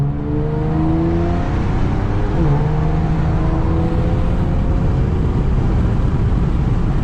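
Boosted Infiniti Q50 engine and exhaust under way at 20 psi, a loud, steady drone with rising and falling harmonic pitch as revs change, continuous and close throughout with no talk.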